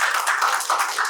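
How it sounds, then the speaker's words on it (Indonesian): A small group in a classroom clapping in quick, uneven bursts, close by and moderately loud, over a short moment. "Tepuk tangan dulu."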